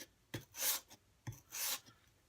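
A plane iron stroked flat on sandpaper to sharpen it, two quiet rasping strokes, each a short scrape followed by a longer gritty rub, close up.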